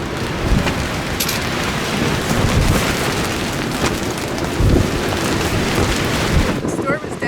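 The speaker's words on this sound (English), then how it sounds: "The storm is definitely rolling in" Thunderstorm on a hilltop with heavy rain and gusting wind buffeting the microphone, low thunder rumbling through steadily without pause, loud and close throughout.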